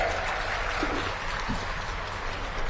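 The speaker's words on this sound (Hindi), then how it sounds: "एक बार मुख्यमंत्री जी का जोरदार ताली बजा के अभिनंदन कर दें।" Loud, continuous applause from a large crowd at a public event with the Chief Minister in Kondagaon, Chhattisgarh, a dense steady roar of clapping with a faint low hum beneath it.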